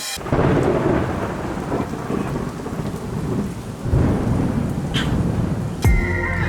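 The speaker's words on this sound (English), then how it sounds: "unfortunately, it started to pour down rain" Heavy rain pours down steadily with rolling thunder, a dense continuous wash of downpour at a detailing shop during prep of a Lamborghini Huracan, with a sharp crack of thunder near the end.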